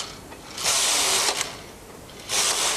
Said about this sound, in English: Knit the number of rows you'll need for your hem. I'm going to knit 8 rows.